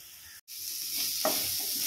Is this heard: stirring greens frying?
yes